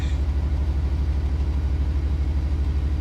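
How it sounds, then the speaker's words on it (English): A GBRf Class 66 diesel locomotive in a train simulator game idles with a steady, loud low rumble and a regular throbbing beat that holds evenly throughout, with no voices over it. "The engine sounds are really, really good, but the horn leaves a lot to be desired."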